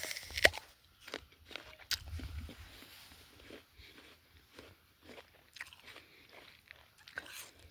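Crisp, close crunches as teeth bite into a Fuji apple, followed by several quieter chewing sounds at irregular intervals.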